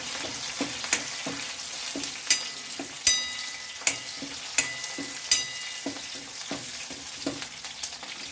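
Curry leaves and onion sizzle and crackle in hot oil for a steady frying hiss, punctuated by sharp pops and spoon stirring clicks every second or so, with no talking.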